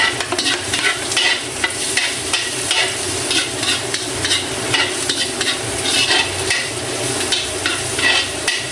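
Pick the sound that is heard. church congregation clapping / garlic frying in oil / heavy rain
garlic frying in oil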